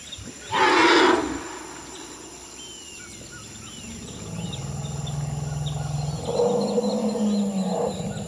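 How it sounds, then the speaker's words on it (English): Elephants at mineral pits where they gather to drink give deep rumbles and a loud trumpeting roar, with low calls rising and falling over a background of insects and birds in the wild. "here you'll hear a bunch of elephants basically talking to each other, negotiating over the mineral pits that they're there to drink from"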